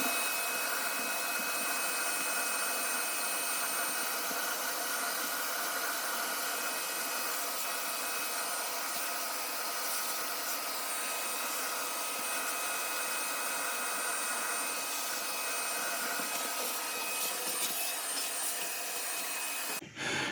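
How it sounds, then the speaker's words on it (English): A vacuum cleaner sucking lint out of an Electrolux dryer roars steadily and loudly for the whole stretch, a constant close-up suction whine that cuts off abruptly at the end. "I'm going to take a couple minutes here and vacuum out all of this lint as best I can"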